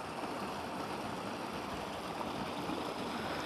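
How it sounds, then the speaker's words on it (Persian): Water flows steadily from the Roya and Omid dam, a broad, constant rushing wash with no breaks and no voices, heard at a moderate distance. "و این هم آبی که فعلا از سمت بند رویا و امید میه، مردم از این آب بلده کشاورزی استفاده میکنه."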